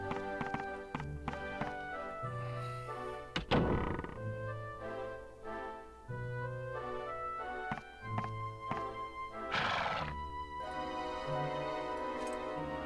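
Hooves clip-clopping from a horse in Dragon Quest VIII, a steady rhythmic clatter over game music with a couple of louder bursts; no neigh stands out clearly.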